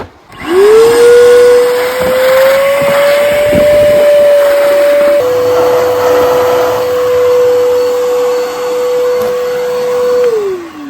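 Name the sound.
old shop vac vacuuming water out of a hole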